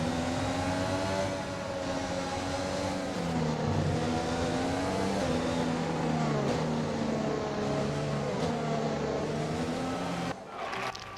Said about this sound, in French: la voiture de sécurité est de sortie